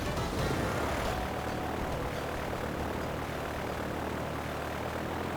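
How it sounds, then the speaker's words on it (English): Propeller airplane drone from a Pokemon White 2 video game cutscene, a steady, loud broadband engine roar that stays constant throughout with no talk. "And then make an airplane sound."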